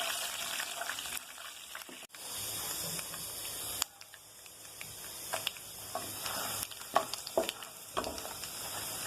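Cumin and black pepper roast in oil in a pan for bisibelabath, making a steady bright hiss with scattered light crackles and a few spoon scrapes, close and fairly quiet, with no voices.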